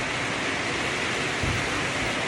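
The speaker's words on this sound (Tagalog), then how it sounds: "hinihintay namin na mag-stop yung ulan" Heavy rain falls in a sudden downpour, a dense, steady, loud hiss filling the whole clip, with no voices.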